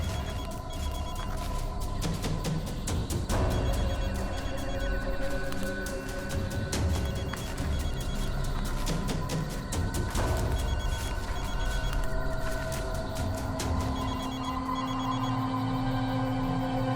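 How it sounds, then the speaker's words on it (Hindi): Muffled phone ringtone repeats faintly from beneath soil, nearly buried under a dense, loud wash of dramatic background music. "घंटी की आवाज काफी धीमी आ रही है"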